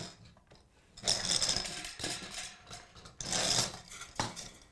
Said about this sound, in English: You're supposed to drag the Slinky toy.